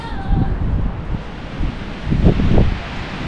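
Strong, gusty wind roars and buffets the microphone continuously, with rumbling low-end bursts and rustling; no voices.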